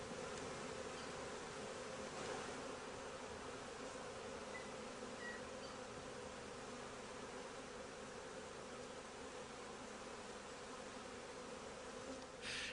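Honeybees hum steadily around a hive, a continuous soft drone that stays even throughout with no voices.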